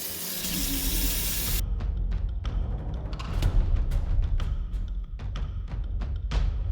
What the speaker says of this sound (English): we're going to wash off in the sink and see what we got